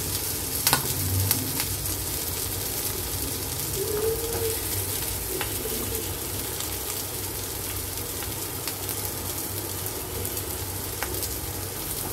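Beet kababs frying in oil in a pan over a medium gas flame, a steady, even sizzle that holds throughout with little change and faint crackles on top.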